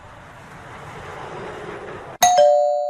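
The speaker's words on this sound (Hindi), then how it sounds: "कौन आ गया है? घंटी से हाथ ही नहीं हटा रहे।" A doorbell rings repeatedly, loud and close, its bright tone ringing out after a stretch of low background rumble.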